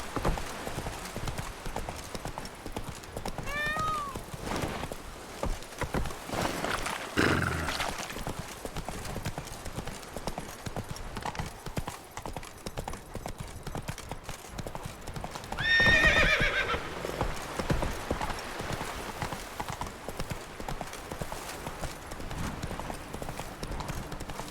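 Roach the horse galloping in The Witcher 3, rapid hoofbeats pounding steadily and close, broken by two sharp whinnies, one early and one later.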